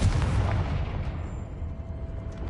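Confringo spell explosion in a Harry Potter video game: a single deep, booming blast that rolls off into a fading rumble.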